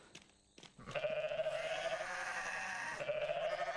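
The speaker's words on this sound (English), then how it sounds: "These are a lot of goats you can just say hi to." Goats bleat in Goat Simulator, several sustained, overlapping calls rising after a short quiet start and running loud and close to the end.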